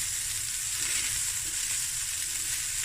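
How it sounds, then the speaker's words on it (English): Cabbage fried rice sizzling in a hot pan as it is stir-fried, a steady close crackling hiss with no pauses. "Stir fry it now"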